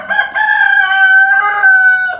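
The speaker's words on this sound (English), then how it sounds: "Rooster's being obnoxious like normal." A rooster crows loudly and close by, one long drawn-out call with a strong harmonic tone, heard alone without any talking.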